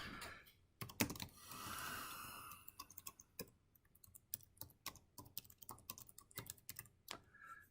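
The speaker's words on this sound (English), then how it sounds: "start typing right there" Typing on a computer keyboard while editing text in MUS Blocks, a run of crisp, fairly quick key clicks at moderate level with a few louder strokes, heard alone without talk.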